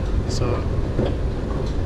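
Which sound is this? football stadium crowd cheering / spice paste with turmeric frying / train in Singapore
train in Singapore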